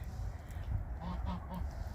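A domestic goose in a winter garden gives a few short honks in a row, moderately close, over steady outdoor background noise.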